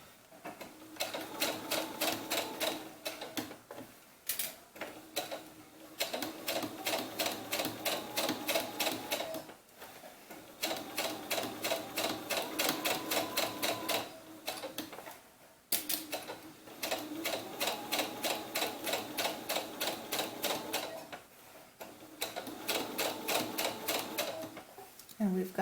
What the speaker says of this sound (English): I'm going to sew in the center again because I want to go as close to the edge as I can. So let's just go ahead and start stitching.